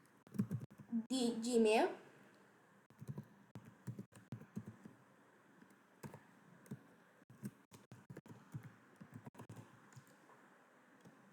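Computer keyboard typing clicks in scattered soft bursts on a desk, faint and close, interrupted by a brief louder rustle and mixed with a person talking quietly.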